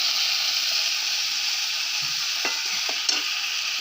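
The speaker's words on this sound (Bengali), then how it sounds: "মাছের ঝাল হচ্ছে, দেখুন।" Fish curry sizzles in a pan with a loud, steady hiss of frying, while a few light scrapes and clinks of a spoon stirring break through near the end.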